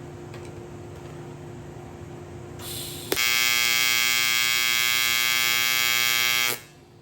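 Steady electric buzz and hum of a welder as filler rod is added to a broken Harley chopper kick start, starting abruptly after a quieter hum and running loud and even for several seconds before cutting off.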